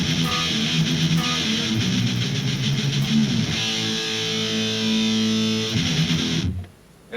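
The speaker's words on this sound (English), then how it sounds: "we play an 8 power chord and let it ring out." Heavily distorted electric guitar plays a gritty riff, then strikes a single power chord that rings out sustained and loud before cutting to silence.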